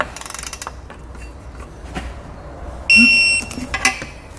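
A socket and wrench torque Roadmaster Direct-Connect base plate hardware: a quick run of ratcheting clicks, a quiet pause, then a short high electronic tone and a few scattered metallic taps nearby.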